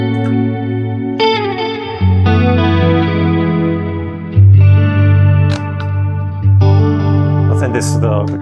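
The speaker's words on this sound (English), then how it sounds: "I tend to have like a short and a long reverb. Again, chorus, kind of 80s thing." An electric guitar runs through a Line6 HX Stomp XL with chorus and short and long reverbs, giving an 80s sound. Sustained chords and notes ring out loud and close, changing every couple of seconds, with shimmering tails and no talking.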